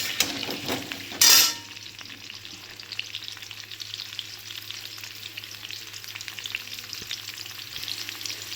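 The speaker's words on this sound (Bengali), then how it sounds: "সব আলুগুলো একসাথে দিয়ে দেবো। দিয়ে একটু লাল লাল করে ভেজে নেব।" Potatoes frying together in hot oil give a bright, crackling sizzle close by, with a loud scraping stir near the start before the bubbling settles into a busy hiss with scattered pops.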